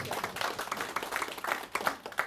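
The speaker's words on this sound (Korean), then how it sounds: "박수 치세요." A small audience at a church-hosted invited lecture claps together, uneven bursts of hand claps rising and falling in a loose rhythm, fairly quiet and with no talking over it.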